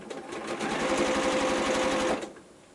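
Sewing machine stitching quilt pieces in a scrap block, a rapid even run of needle clatter for about two seconds, close and moderately quiet, then stopping.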